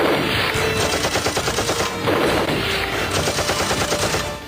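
Sustained gunfire around a government building seized by terrorists: dense, rapid bursts of automatic fire overlap continuously, loud and harsh, with a brief lull near the middle before the shooting resumes, and no talk.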